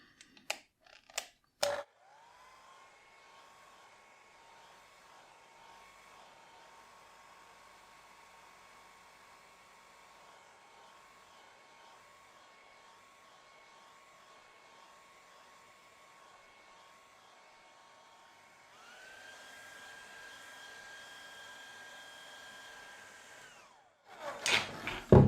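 A hair dryer blows steadily over a wet watercolour painting of a snow scene, a continuous whirring hum that shifts to a higher, stronger pitch near the end before cutting off, with small clicks at start and finish.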